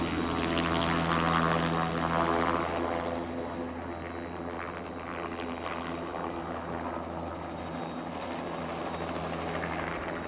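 A logging helicopter flies unseen in thick fog over a mountain timber site, a steady loud rotor drone and engine roar holding throughout, slightly stronger at first and then evenly sustained, with no voices.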